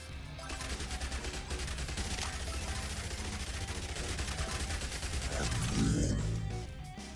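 Rapid SMG gunfire in the zombie survival game Yet Another Zombie Survivors, a dense, continuous stream of fast shots running throughout, swelling louder near the end amid crashing impact sounds.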